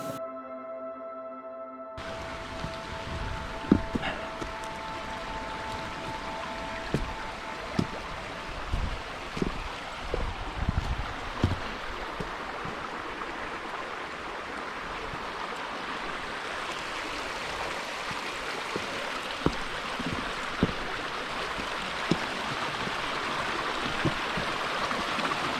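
A burn flows beside a walking path at Burn O'Vat, a steady broad rush of running water with scattered footsteps and small knocks close by, continuous for the whole stretch with no talking.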